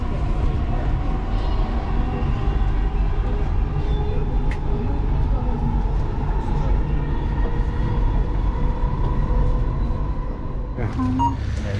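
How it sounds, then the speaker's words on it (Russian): Interior ride aboard a driverless automated metro train in Dubai: a steady, loud rumble and hum of the carriage running continuously, with a brief higher tone near the end. "Поезд управляется без машиниста."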